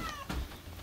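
A cat meows at a campground while being shooed off, a short quiet cry set against steady background noise, with no talking over it.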